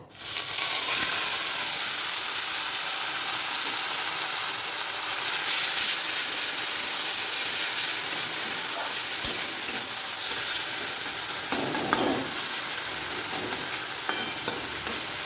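Taro greens go into two tablespoons of hot oil with panch phoron, making a loud continuous sizzle and fry hiss with spoon scrapes and occasional sharp pops. The frying runs close and steady for the whole stretch.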